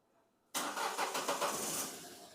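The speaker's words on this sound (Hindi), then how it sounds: "तो अपन एक बार गाड़ी को स्टार्ट करते हैं।" A car engine cranks and catches abruptly after a short quiet pause, then runs loud and steady nearby; the car has a pickup fault and a vibrating engine.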